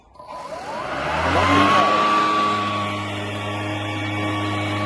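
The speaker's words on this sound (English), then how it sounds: "as you can hear, it's got a fairly noisy mower" A Mountfield Typhoon lawn mower starting and running, its motor whirring up to a steady, loud, close drone with a high whining tone.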